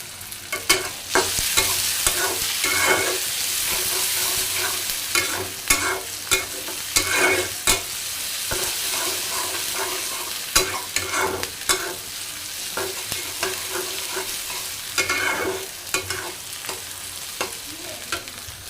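Country broad beans cooking in a pan of bubbling broth, with a continuous sizzle and frequent spatula stirring and scraping at a close, steady level and no voices.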